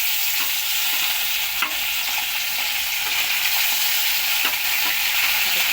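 Fish frying in a pan gives a steady, loud sizzle and crackle throughout, with a few sharp spatters and pops standing out, and no voices.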